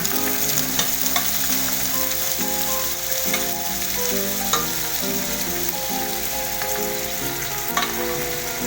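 Boiled beef for beef pares sizzling and frying in a pan, a steady dense crackle with occasional stirring clinks, close and loud, with music playing underneath.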